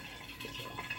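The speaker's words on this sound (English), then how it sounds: "I'll just go ahead and pour that up in there too." Vodka is poured into a jar of homemade Iron Palm Dit Da Jow liniment, a quiet continuous liquid trickle with small gurgles, heard faintly up close with no talk over it.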